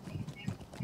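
Horse hooves clip-clop in a multiplayer fantasy video game, a soft, quick, uneven patter of hoof strikes lasting under a second at low level.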